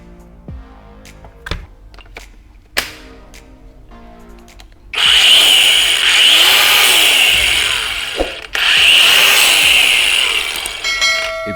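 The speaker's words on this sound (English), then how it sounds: "Does the battery actually have enough power to bring the angle grinder back to life?" A battery-powered angle grinder starts after a few scattered clicks and knocks. It spins up into a loud, sustained high whine, cuts out briefly, then restarts and runs loudly again before stopping.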